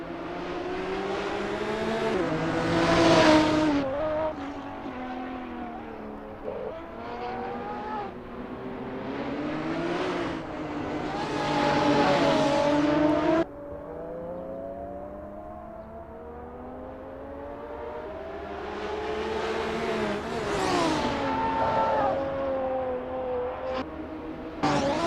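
Sim racing cars warming up on the Nurburgring GP circuit, engines revving and shifting in repeated swells, with cars passing and a hint of tire squeal, steady and fairly close throughout.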